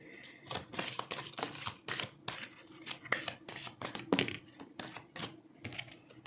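Tarot cards are shuffled close by in a quick series of papery riffling bursts, each lasting a fraction of a second, repeating steadily with brief gaps and no talking.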